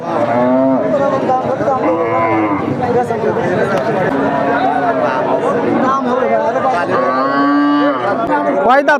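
Cattle moo repeatedly, loud and near, overlapping one another above a steady murmur of crowd chatter and people talking at a livestock market selling lean, bony cattle.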